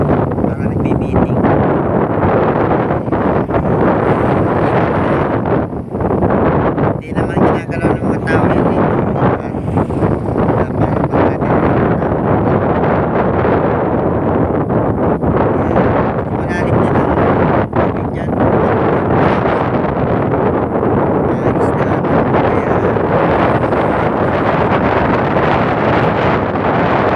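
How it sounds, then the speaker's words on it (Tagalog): Strong wind buffets the microphone in a steady, loud roar at an open spot where birds gather, with gusting surges throughout and no clear voices. "Lakas-lakas ng hangin dito"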